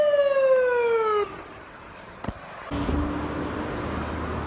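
An ambulance siren sounds loud and close, a single falling wail that cuts off abruptly after about a second, followed by a brief click and steady background rumble.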